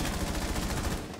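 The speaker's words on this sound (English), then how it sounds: "Does it count if I hip fire with the breaching?" Rapid hip-fire gunfire in Rainbow Six Siege rattles off as a dense, loud burst of shots lasting about a second.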